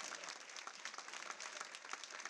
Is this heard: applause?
yes